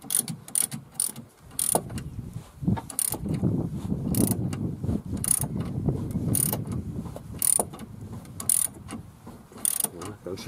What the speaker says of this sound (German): dann kann ich hier oben die Mutter schon abdrehen